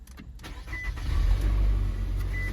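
A 2017 Nissan Altima with 94,000 miles cranks briefly and starts, then settles into a steady idle, close up and alone without talk.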